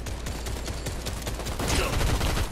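Gunfire in the video game Fortnite, a fast run of repeated shots close and loud across the whole stretch, with a brief burst of breaking noise partway through.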